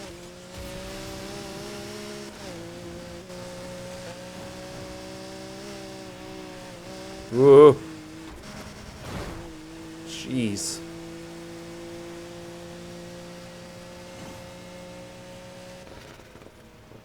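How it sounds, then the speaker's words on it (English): Lamborghini Aventador SVJ in a racing video game, a steady humming engine drone that rises and shifts in pitch with acceleration, joined by brief squeals, while someone speaks short exclamations over it. "Is this what an SVJ sounds like?"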